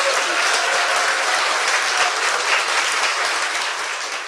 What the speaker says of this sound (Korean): 일단 박수 한번 더 주세요.